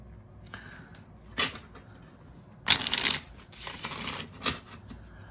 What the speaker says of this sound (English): I'm very sort of aggressive shuffler.